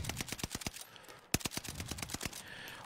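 Rapid bursts of automatic gunfire in a video game, sharp repeated shots in fast rhythm with a brief pause midway, loud and near, with no talk.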